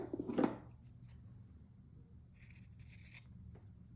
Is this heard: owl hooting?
no